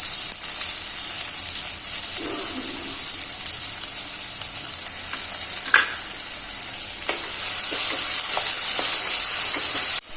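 Sliced onions and slit green chillies frying in a pan make a bright continuous sizzle, broken by a few sharp scrapes and knocks of stirring, and the sizzle grows louder toward the end.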